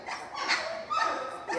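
Young puppies, about four pounds each, whimper and yip in a continuous high, squeaky chorus, close by and moderately loud, with no talking.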